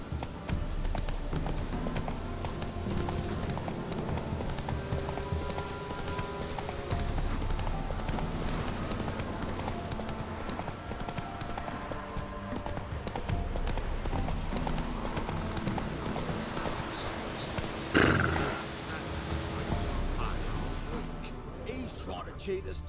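The horse Roach gallops in The Witcher 3: Wild Hunt, a steady rhythmic clip-clop under game music and ambience, with a brief louder burst near the end.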